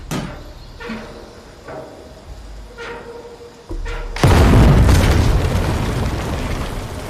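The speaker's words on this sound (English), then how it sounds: "You telling me there's just a cannonball in there, no gunpowder had to be put in, and she just like hit that thing and it just went off?" A cannon fires a cannonball in Shadow of the Tomb Raider, a sudden loud boom that breaks out after a stretch of quieter game sounds and soft thumps, then rolls on as a heavy rumbling roar that slowly eases.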